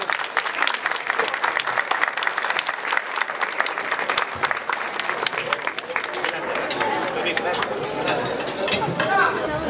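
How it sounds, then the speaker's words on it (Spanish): Audience applause at a silver anniversary celebration marking an institution's 25 years, a steady, dense burst of many hands clapping that carries on for about ten seconds with faint chatter mixed in. "Un aplauso,"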